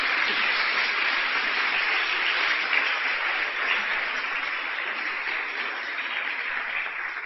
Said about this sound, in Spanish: Denle un aplauso, Señor.